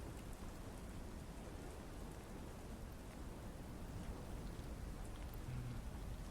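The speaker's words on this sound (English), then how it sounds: "It's been raining for a few days, like the past couple days, like on and off. But this is the heaviest it's been in the past couple days." Heavy rain pours steadily in a dense, unbroken hiss, with no talk over it.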